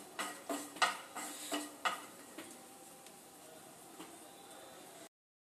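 Peanuts fry in a pan on a very low flame, giving a soft sizzle broken by a few light pops and stirring clatters early on, then settling into a fainter hiss.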